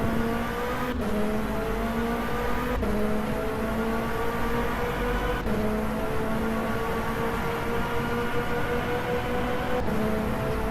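Race car engine in rFactor 2 on a long airfield circuit, a steady loud whine with sharp pitch drops at regular intervals as gears change, running alone without talk.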